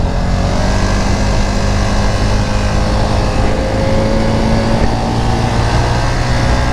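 A street motorcycle comes back onto the throttle after trail braking, its engine note rising steadily and loud and close, running continuously without pause.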